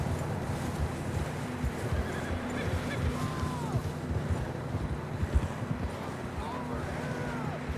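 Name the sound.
horses from a video game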